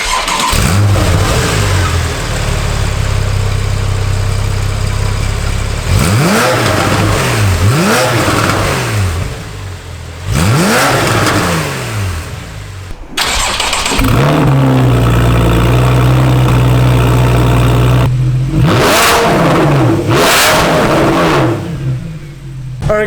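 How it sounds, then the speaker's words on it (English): A Porsche 911 fitted with a Fabspeed aftermarket exhaust cold-starts and idles high, then is blipped through several loud, sweeping revs that fall back each time, close and dominant, with brief pauses between bursts. "this thing sounds absolutely insane"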